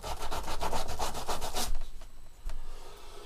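Sandpaper scrubs the cut edge of a homemade can alcohol stove, a quick run of rhythmic close rasping strokes that stops, followed by a couple of softer scrapes.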